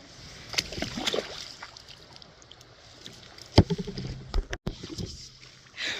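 A boat working through very shallow baby river rapids, with steady rushing water, scattered splashes and paddle knocks, a few sharp thumps near the middle and a faint voice briefly.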